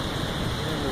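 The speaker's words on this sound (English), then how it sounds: "Rain is pretty good." Heavy rain pouring during a storm, a dense, steady hiss filling the whole clip loud and close, with no distinct individual drops or pauses.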